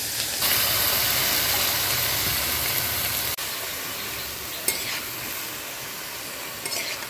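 Chopped vegetables tipped into a pan of frying nigella seeds in oil, a strong hiss that drops sharply after the addition, then a quieter sizzle with a faint stirring clink.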